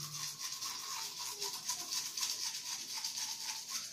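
Toothbrush scrubbing teeth in small circular strokes with an organic whitening mixture, a close, rhythmic bristly rubbing that repeats steadily throughout.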